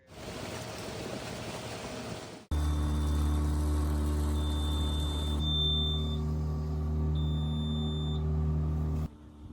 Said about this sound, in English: We hadn't experienced the alarm on the boat before